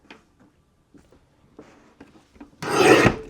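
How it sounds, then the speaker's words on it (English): A paper trimmer slices through dark green cardstock in one close, rasping stroke, after several quiet light taps and shuffles of handling the sheet. "you can trim these one at a time and then rewind"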